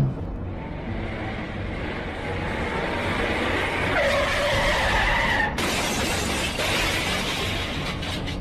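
A road accident in front of a salon involving a truck loaded with iron building materials. A rough rumbling roar builds, then a sharp, loud shattering crash bursts out partway through, followed by lingering debris noise.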